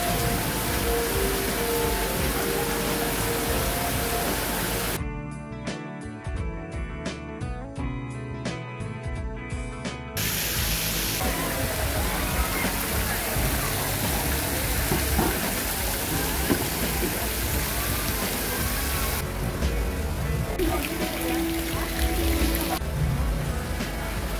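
Water fountain jets spray steadily at a water piano attraction in a park, a dense hissing rush of falling water filling the whole stretch with a brief burst of music partway through.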